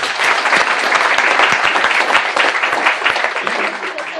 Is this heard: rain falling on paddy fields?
no